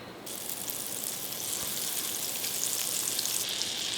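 Olive oil and butter sizzle in a hot cast iron pan, a steady, close, even crackling hiss that runs unbroken from start to finish with no voices.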